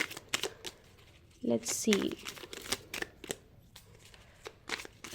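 Tarot cards shuffled by hand in short rustling bursts during a reading, with someone speaking briefly over and between the card sounds.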